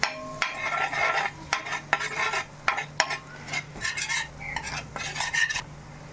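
Egg seasoned with salt and pepper being stirred briskly with a metal utensil in a bowl: repeated rhythmic scraping and clinking strokes in uneven bursts, close and fairly loud, with no talk.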